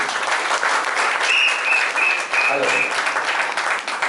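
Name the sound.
applause for Bhavesh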